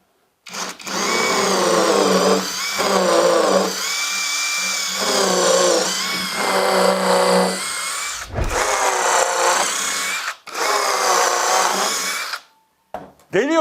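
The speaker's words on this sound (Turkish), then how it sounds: "birkaç tane de metale böyle bir delik delelim" A power drill with a hex-shank bit whines in several sustained bursts with brief pauses between, loud and close, its pitch wavering as it bores holes in metal.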